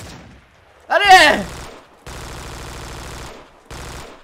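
Gunfire in the video game Vietcong, loud close bursts of automatic fire with a sharp rising whine near the start, followed by sustained shooting that stops and resumes, with no talk over it.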